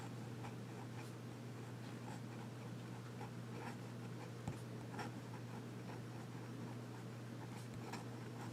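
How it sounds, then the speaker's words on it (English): A Nemosine Fission fountain pen with a graphite body doing reverse writing on paper, a faint, steady scratchy nib sound over a constant low hum. "Let's do some reverse writing."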